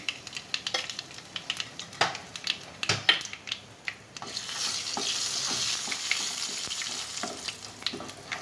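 Urad dal dropped into hot oil for the tempering of an onion chutney, scattered stirring clinks and scrapes at first, then a steady soft sizzle that swells and holds to the end, with no voices.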